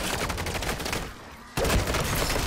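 Dense gunfire in Call of Duty MW3 Zombies, a sustained roar of rapid shots that cuts out briefly before resuming just as loud and close.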